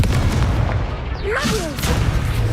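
A Confringo spell blast in a wizarding video game, a booming explosive burst with crackling debris over a dense battle rumble.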